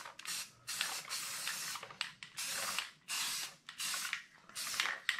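Spray paint is applied in light coats to both sides of HO scale model building walls: about six short, close hissing bursts with brief quiet gaps between them, and no voices.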